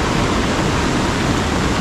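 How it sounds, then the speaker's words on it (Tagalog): Steady rain pours on a farm, a dense, even hiss with no breaks that stays loud and close for the whole short stretch, with no voices. "Doon banda hindi po masyado malakas yung ulan kasi mahina yung tubig dito, pero doon po ang malakas."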